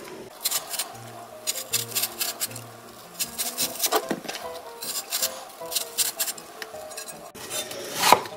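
Apple for a bellflower root salad being cut into thin julienne strips, with quick rhythmic knife strokes in short runs and brief pauses between them, close and crisp.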